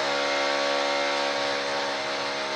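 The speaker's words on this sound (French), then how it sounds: "Donc là, Fred, il perce." A power drill bores holes with a loud, steady, even whine that runs unbroken throughout.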